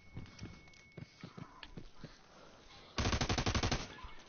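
Rapid burst of video game shotgun fire erupts near the end, a dense string of loud, closely spaced blasts following quieter scattered game noises.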